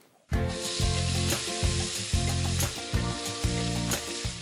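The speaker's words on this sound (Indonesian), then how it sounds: "Udah mendidih, Bu, minyaknya? Udah bisa dimasukin? Oke, cemplungin ya, Bu." Shallots, garlic, pepper and chili hit hot oil with a sudden loud sizzle, then keep frying in bursts that rise and fall as they are stirred.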